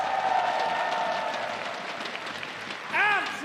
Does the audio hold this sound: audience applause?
yes